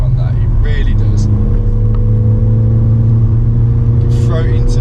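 Ford Fiesta ST engine revving hard while driving on the road, a loud steady mid-pitched drone that stays constant throughout, with faint speech underneath.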